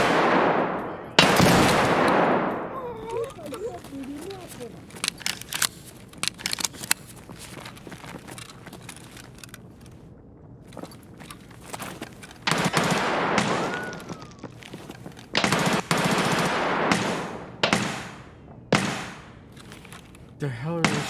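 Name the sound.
suppressed shotgun gunfire in a video game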